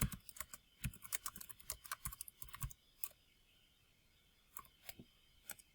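Rapid, light keystrokes on a computer keyboard, typing in quick bursts with a short pause before a few more taps.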